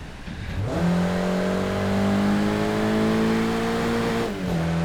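A Mazda MX-5 engine in the racing game Japanese Drift Master drones steadily and loudly, revving up briefly at the start and shifting pitch near the end, with a synthetic, game-like, weak-sounding tone.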